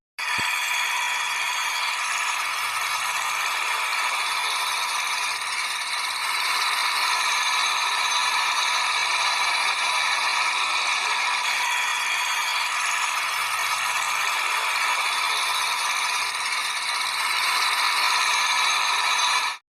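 A small General WP30CX-D 3-inch diesel water pump engine runs steadily with a harsh, rattling mechanical clatter, constant and fairly close, with no voices.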